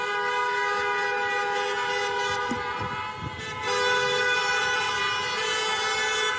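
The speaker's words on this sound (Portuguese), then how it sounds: "voltou a intensificar-se o barulho das buzinadelas" Car horns honk continuously at a street protest near the Cosme Damião roundabout in Lisbon, a dense layered blare of sustained toots that swells louder partway through, with crowd rumble beneath.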